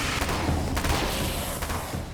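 Submachine gun fire in the Alan Wake's American Nightmare video game, rapid bursts blending into a dense, steady wall of shooting with no pauses across the short span.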